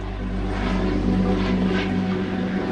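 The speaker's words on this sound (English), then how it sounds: "The helicopters are flying overhead continuously" Steady, continuous rotor and engine drone of rescue helicopters passing overhead after Hurricane Ian, loud and unbroken with a slight swell in the middle.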